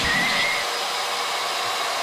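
A hair dryer blows steadily at a campsite, a loud continuous whooshing hum with a faint whine that runs unbroken for about two seconds, then cuts off.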